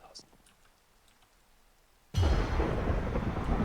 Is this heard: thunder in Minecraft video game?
yes